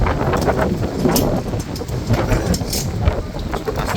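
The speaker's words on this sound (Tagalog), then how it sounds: "Taas ng hangin." Steady roaring gusts of strong wind buffet the microphone throughout on a large fishing boat being loaded with ice, a continuous loud rush with no pauses.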